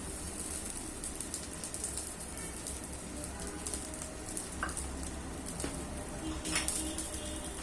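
An instant dosa sizzles on a hot pan as oil is trickled around its edge. The frying hiss is a steady, soft crackle with faint clinks of utensils and no voices.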